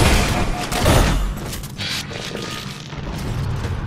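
Rocket fire and heavy explosions in Halo 4 during a Dominion match on the Longbow map, with a loud booming blast early and rumbling, crashing aftermath that fades over a few seconds.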